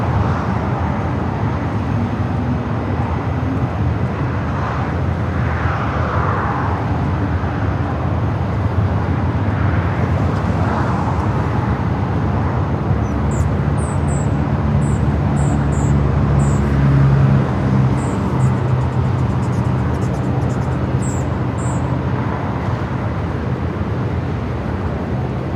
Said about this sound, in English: a 13-year-old 747-8 freighter taking off there on the south side